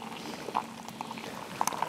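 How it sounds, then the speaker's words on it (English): Boiling water pours into a mug at a snowy winter campsite in Algonquin Park, a soft, close, bubbling trickle with light splashy patter lasting a couple of seconds. "we're gonna go ahead and pour the boiling water"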